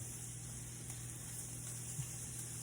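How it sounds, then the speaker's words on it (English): Onions cooking in butter in an iron skillet give off a quiet, steady sizzle with faint crackles throughout, and nobody speaks. "I love the smell of onions being cooked in the iron skillet"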